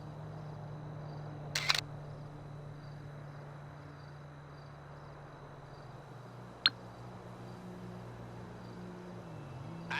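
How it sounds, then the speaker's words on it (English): A phone camera shutter fires in the GTA 5 Online video game, a single crisp click over a steady low hum, with another faint click earlier. "grab a pic of the main door on your phone and send it my way"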